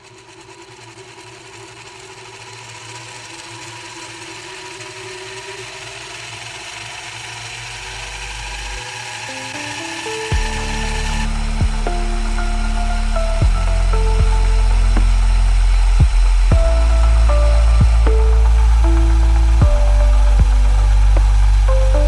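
A Meccano power drive unit electric motor, fed by a 7.4-volt lithium polymer battery, runs a model motor sledge with a steady mechanical whir that grows louder and busier, shifting in pitch with clicking gear changes in the second half.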